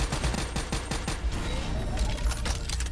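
Rapid video game gunfire from Black Ops 3 campaign play, a quick run of sharp close shots firing in a steady rhythm for a few seconds over a dense game soundscape, with no voices.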